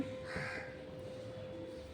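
A crow caws once, a single harsh call near the start of the clip, over a steady low background hum and with no voices.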